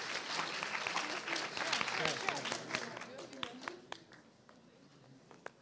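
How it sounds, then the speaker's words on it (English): An audience at a startup demo day breaks into applause that builds over two seconds, then thins into sparse individual claps and fades. "All right, round of applause."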